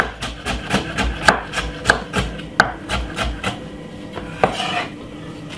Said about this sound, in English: I'm gonna do some slices of carrot.